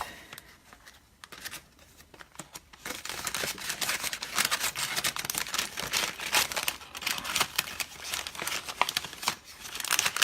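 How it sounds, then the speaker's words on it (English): A paper gusset treat bag is opened up by hand for a craft project, giving steady crinkling and rustling of paper that starts soft and grows louder and busier after a few seconds, with no talking. "you're going to take your gusset bag and open it up"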